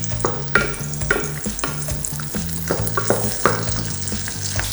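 Sauce sizzles steadily in a pan while a utensil scrapes and stirs in a regular rhythm, with no talking.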